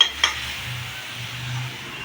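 Spices tempering for a palak saag with potato and eggplant give a soft, steady sizzle close by, with a couple of sharp clinks of a utensil against the pan near the start.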